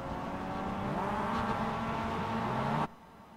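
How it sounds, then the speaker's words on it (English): Race car engines from the iRacing MX-5 race at Road America drone steadily and harmonize before cutting off abruptly near the end. Several engines sound together at a moderate level, with no talking. "Wait for the engines to start to harmonize."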